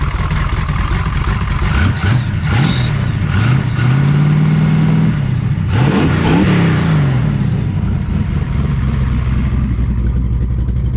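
A Pure Stock dirt track race car engine fired up and revved, loud and close, with several sweeping rises and falls in pitch as the throttle is blipped, then settling into a rough, steady idle.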